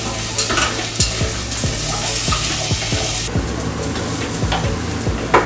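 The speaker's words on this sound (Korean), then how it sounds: "이 고기를 볶았던 냄비에 그대로 또 야채를 넣어." Vegetables sizzling and frying in a pot used for browning meat, with a spatula scraping and stirring in a steady rhythm of repeated strokes, close and fairly loud.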